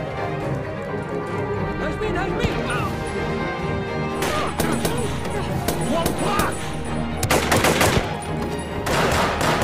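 Gunfire erupts in a film gunfight among elite soldiers from the victorious World War II nations: scattered shots, then clustered bursts of sharp cracks, heard under a narrator's steady voice.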